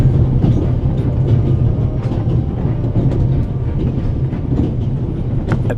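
A moving train rumbles steadily and loudly in the video game The Raven: Legacy of a Master Thief, a continuous rolling clatter of carriages on the rails with no voices over it.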